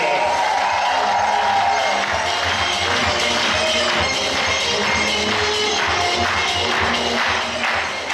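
Audience applause and crowd noise at a KVN comedy game at a university cup, a sustained dense wash of clapping and murmuring that holds steady throughout, loud and filling the room.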